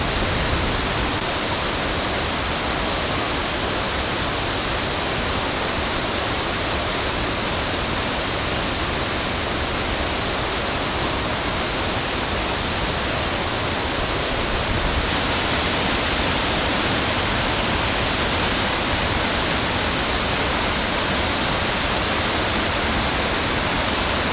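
Ban Gioc waterfall on the Vietnam-China border at the end of the rainy season, a loud, unbroken roar of falling water that fills the whole stretch without pause or voices.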